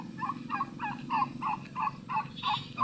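A group of four neighbourhood turkeys gobbles in quick, rhythmic bursts, about eight gobbles in under three seconds, moderately close over a low steady background hum, with no talking.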